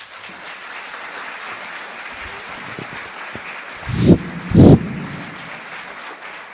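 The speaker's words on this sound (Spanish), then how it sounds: "Un aplauso, por favor." A concert audience at a choral day concert claps for the choir director, a dense, even round of applause that fills the hall with no voices, swelling briefly near the end.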